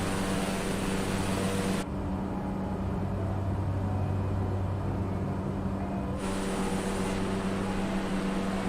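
A STOL light aircraft's engine runs steadily as the plane turns in a tight space near a Himalayan runway above Namche Bazaar. It gives a constant droning hum close by, with a brief shift in tone partway through.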